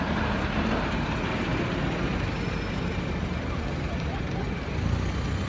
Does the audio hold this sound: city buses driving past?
yes